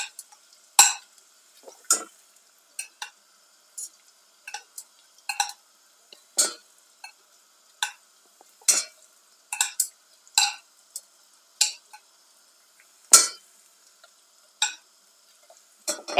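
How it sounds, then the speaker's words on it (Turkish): Eggplant slices are laid over caramelized onions in a hot pan, each placement giving a brief sharp sizzle or clatter, about twenty close crackling bursts spaced irregularly against near silence. "Soğanlarımın üzerine patlıcanlarımı döşüyorum."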